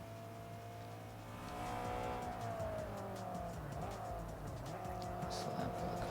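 A Honda S2000 engine in Forza Motorsport 3 holds a steady, droning pitch that rises and then shifts through the gears, with tire squeal near the end and brief talk over the top.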